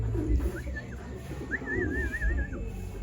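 At a loft, a racing pigeon gives a short coo, then a longer warbling, rolling coo, heard close over low background rumble.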